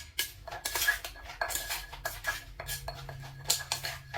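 Green papaya salad is pounded in a small mortar, making quiet, close, irregular thuds with clinking and scraping between strokes, with no talk.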